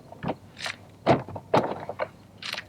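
Interior door panel of a Ford Crown Victoria being pushed up and pried off its retaining clips, giving several sharp close pops and plastic knocks spread over a few seconds, with no talking.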